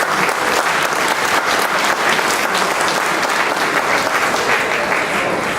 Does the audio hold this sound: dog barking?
no